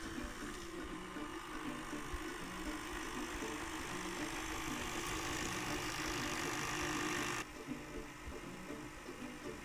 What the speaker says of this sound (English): Now you turn your mixer thingy on low, and you add a third of the milk into it.